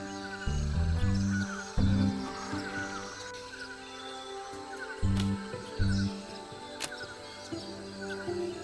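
Squawking bird in the Monkey Island 2 Special Edition adventure game, a few harsh calls over a steady musical game background with low thumping notes, moderately loud and alone without talk.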